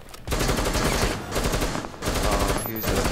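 Automatic gunfire in a Rainbow Six Siege match, loud sustained bursts of rapid shots broken by two brief pauses, close and dominant with no clear talk over it.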